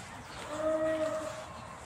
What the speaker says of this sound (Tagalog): Ayun ang kambing.